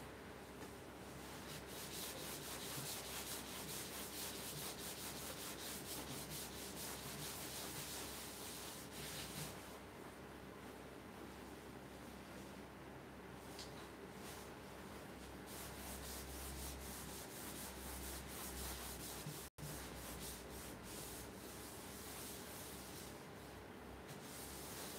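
Cloth rubbing finish into a turned wooden fruit bowl, likely spinning on the lathe: a continuous soft, even scratchy friction, close and quiet, with a brief break near the end and no talking.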